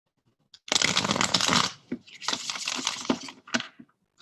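A Robinwood tarot card deck being shuffled, two close riffle bursts of crisp flapping cards separated by a short pause, followed by a few soft taps, with no talking.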